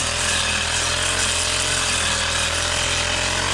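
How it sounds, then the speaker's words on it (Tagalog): A cross cutter power tool runs on a farm, a loud, steady, unbroken motor whine that stays constant throughout with no voices. "Okay guys, cross cutter."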